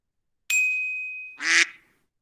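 Short sound effects: a bright bell-like ding rings and decays, followed by a brief buzzy honk like a horn, each distinct and loud with silence around them.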